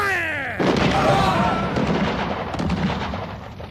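A firing squad of soldiers fires a single volley: one loud, booming crack that rolls into a sustained rumbling echo, right after a shouted command.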